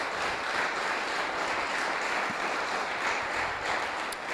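A church congregation applauds at an evening service, a dense, sustained wash of clapping from many hands that fills the room steadily without pause, with no talking heard over it.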